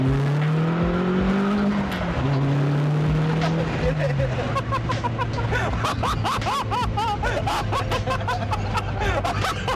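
British sports car accelerating hard in a 0 to 60 run, engine note climbing through gears then a steady drone, with people inside laughing and chuckling loudly over it.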